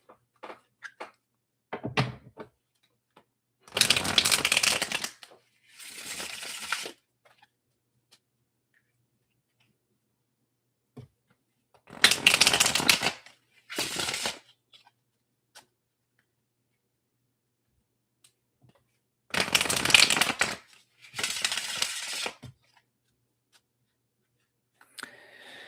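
Tarot cards being shuffled by hand give brisk papery riffling bursts of one to two seconds, grouped in pairs and separated by long quiet pauses.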